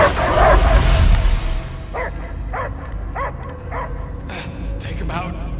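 Dog barking in a video game set on a pirate-themed Caribbean adventure: a run of short, evenly spaced barks and yips rises after a loud opening swell of game sound and voices, moderately near over a steady backdrop.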